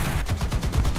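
Gunfire in the War Thunder combat video game, a dense, loud, continuous stream of rapid low booming shots with no pauses, heard alone.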